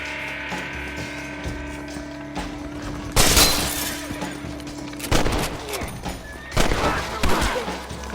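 Gunfire in the Red Dead Redemption video game, several loud, sharp shots in bursts over a steady background drone, with ringing, crackling impacts between them.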